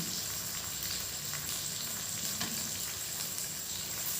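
Taro (arbi) pieces fry in oil with a dense, steady sizzle and crackle throughout, close and even, with no voices.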